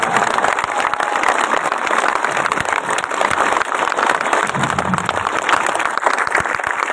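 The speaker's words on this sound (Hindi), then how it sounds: "जोर से ताली बजाइए।" A large audience at a Jan Suraj political rally claps in a continuous, loud, rain-like wash of applause that holds without pause from start to finish.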